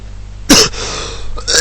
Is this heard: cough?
yes